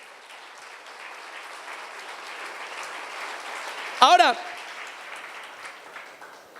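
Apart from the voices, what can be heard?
church congregation applauding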